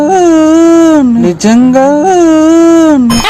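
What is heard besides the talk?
dog howling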